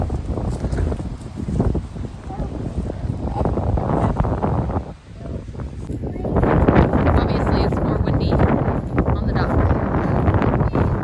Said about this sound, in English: This is how windy it is today.